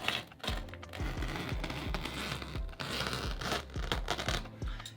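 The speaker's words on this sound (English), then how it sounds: "I'm going to start in the middle and cut right along this seam where the trim meets the wall." A blade cuts wallpaper along the seam where the trim meets the wall, making close, irregular scratchy tearing and scraping sounds with small clicks spread throughout.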